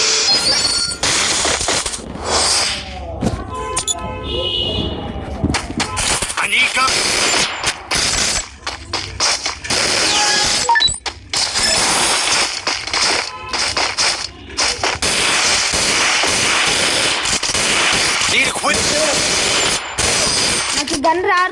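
Rapid gunfire from a mobile shooting video game rattles out in dense bursts and single cracks, loud and almost continuous. Game effects and a voice are mixed in.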